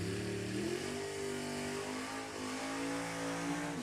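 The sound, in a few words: drag racing cars, a Victory Chassis dragster and a 61 Impala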